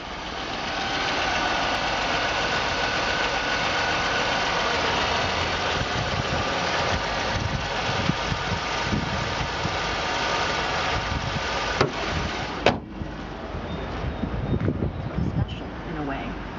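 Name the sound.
1998 Chevrolet Lumina sedan engine running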